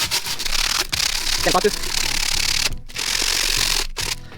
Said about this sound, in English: So I'm going to get some sandpaper, some rough sandpaper, and just sand the top.